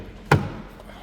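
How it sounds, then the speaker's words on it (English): Door of a 2025 BMW X3 M50 in Black Sapphire Metallic opening, one short sharp clunk of the latch releasing, close and fairly loud, then a quiet ambient background. "So once we open up this door,"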